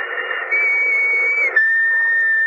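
A sustained whistle tone blown as a sound effect in a vintage radio drama, steady and loud for over two seconds with a brief dip before it carries on alone, with no talk over it.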